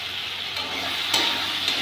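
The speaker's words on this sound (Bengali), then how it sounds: "মশলাটা শুকিয়ে এসছে, এখনই ভাজা আলুগুলো দিয়ে দেবো।" Fried potatoes go into a drying spice paste in a hot pan, giving a steady, close hiss of sizzling with a couple of sharp clicks of stirring; no voices.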